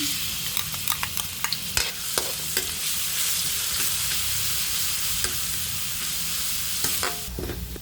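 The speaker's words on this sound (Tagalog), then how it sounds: "Kailangan ko ng maggisa. Maglagay ako ng mantika. Maglagay na ako ng bawang." Garlic sautéing in hot cooking oil in a wok-style pan, a steady close sizzle with scattered sharp crackles and spatula scrapes throughout, heard alone without talk.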